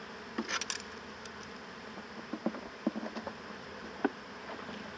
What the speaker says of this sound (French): Je secoue les abeilles.